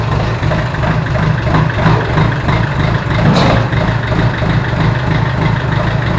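A Kubota mower engine runs loud and steady at close range, a constant low idling rumble with slight fluctuations and no talking.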